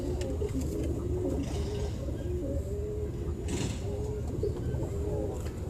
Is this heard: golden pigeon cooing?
yes